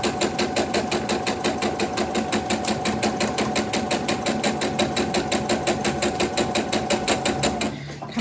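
A sewing machine stitching quilt block pieces for an antique tile quilt block, running at a fast, even rhythm without a break for about eight seconds before stopping.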